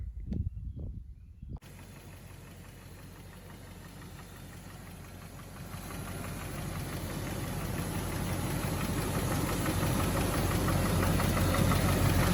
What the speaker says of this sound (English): This is the engine warm after doing about 10 miles.